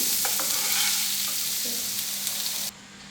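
Hot oil sizzling steadily as mustard seeds crackle, with a few scattered pops, close and loud, then dropping off suddenly toward the end.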